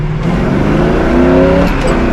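A 1968 Camaro SS with dual exhaust revs hard up close, a loud, throaty engine roar building into a rising growl across the whole moment.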